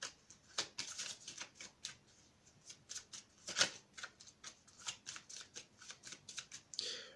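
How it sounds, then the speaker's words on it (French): Cards riffled in a rapid run of crisp flutters and snaps over about seven seconds, close and fairly quiet, finishing with a brief bridge-style cascade. "Je vais bien mélanger, même que je vais faire un brassage américain"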